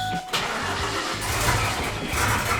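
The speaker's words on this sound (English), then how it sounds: "It's gonna start first crank right here." A 2002 Mustang GT race car engine on a break-in tune cranks briefly, then catches on the first try and settles into a loud, lumpy idle with a throbbing low rumble, heard close.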